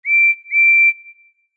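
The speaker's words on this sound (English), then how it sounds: "He slowed down and whistled back." A steam engine whistle sounds twice in quick succession, each blast a clear sustained tone about a third of a second long, the second trailing off into a fading tail, loud and alone.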